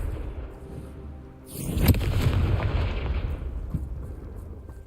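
Confringo blasting spell in Hogwarts Legacy, first a quiet stretch, then a sudden heavy explosion with a deep rumbling body that dies away slowly over a few seconds, close and loud, with no talking.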